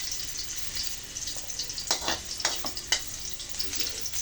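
Garlic sizzles and crackles steadily in a hot pan for spicy pork ribs caldereta, with a few scraping stirs of a utensil, close and fairly quiet.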